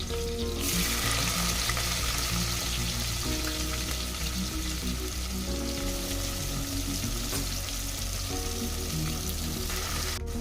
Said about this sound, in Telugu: ఉల్లిగడ్డలు వేయాలి.